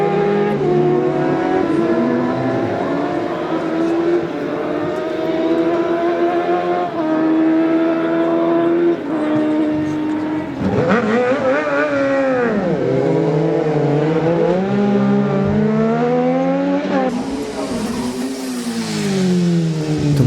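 A Kawasaki racing motorcycle at the Manx Grand Prix Senior race, engine howling loudly and climbing through gears as it approaches, pitch swooping down as it passes close by, then rising again with another machine, no talking.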